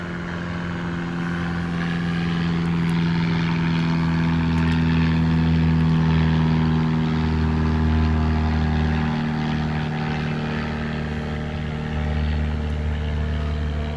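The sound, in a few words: airplane flying over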